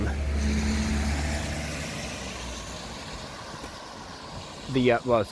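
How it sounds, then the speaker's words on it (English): A car goes by outdoors during a walk, its low engine rumble loud at first and then fading into the distance, followed by a brief burst of nearby talking at the end. "the car went past."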